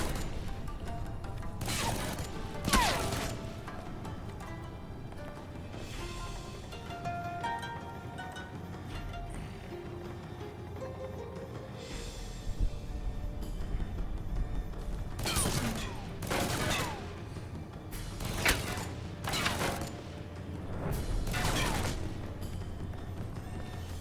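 Gunfire in the Alpha Protocol video game, bursts of loud shots in clusters separated by quieter stretches of ambient game sound, with sporadic spacing and no talking.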